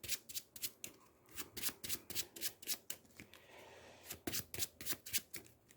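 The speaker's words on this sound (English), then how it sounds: "shuffle the top 2 cards into each player's deck." Marvel Champions playing cards are riffled and shuffled into a deck, a close, fairly quiet run of rhythmic rapid flutters in bursts with a brief pause midway.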